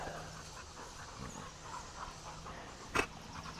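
Dogs playing and panting close by, a quiet run of rhythmic breaths with a short sharp sound near the end.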